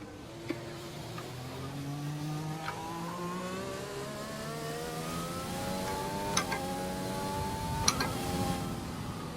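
A race car circles a wet track in a racing video game, its engine climbing through the gears in steady rising sweeps with brief shift breaks, heard alone at a moderate level.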